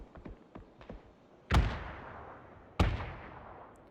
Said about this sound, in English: I see Vox shooting some bullets